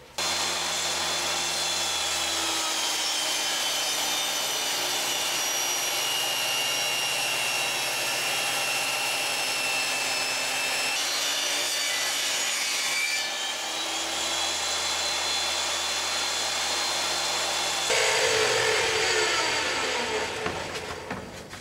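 A handsaw cuts a thin wooden panel in half with a continuous, even rasping drone that shifts in pitch now and then and grows rougher near the end, close and loud, no talk.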